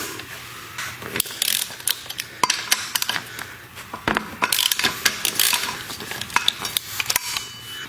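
Ratcheting wrench loosening 10mm axle clamp bolts on the underside of a wheel axle, a run of quick metallic clicks and sharp ticks in irregular bursts, close and fairly loud, with no talking.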